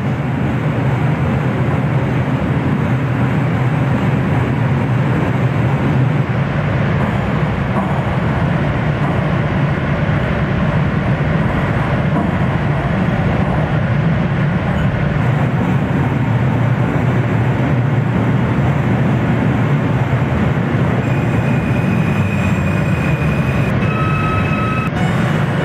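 An NYC Subway R160 N train in the OpenBVE train simulator game runs in a loud, continuous rumble of wheels and motors, steady throughout with a few short high beeping tones near the end.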